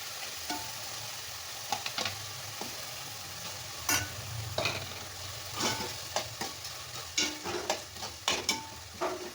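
Steady frying sizzle of three eggs in a pan with occasional scraping and clinks of a utensil, close and moderately loud, no voices.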